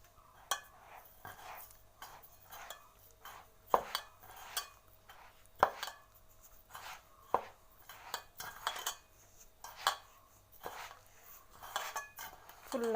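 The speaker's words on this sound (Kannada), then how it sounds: "ಇದನ್ನು ಇವಾಗ ಚೆನ್ನಾಗಿ ಮಿಕ್ಸ್ ಮಾಡ್ಕೊಳ್ಳೋಣ." Semolina and ghee being mixed in a bowl for crispy rava vada, with a spoon scraping and clinking against the dish in repeated short strokes, close and fairly quiet, with no talk.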